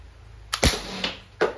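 An Umarex T4E TR50 CO2-powered tactical revolver fires three sharp, close shots, each a crisp pop with a short airy hiss, spaced at uneven intervals against a quiet background.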